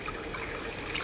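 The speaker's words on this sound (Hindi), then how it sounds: "यहाँ हम पानी भर देते हैं।" Water runs into a tank outdoors during rain, a steady continuous rushing and trickling wash that fills the short moment at even loudness.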